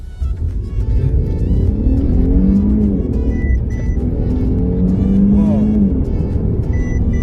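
Mercedes E450 AMG sedan accelerating hard in sport mode, a loud, steady engine roar with rising pitch sweeps held close throughout, while someone talks over it.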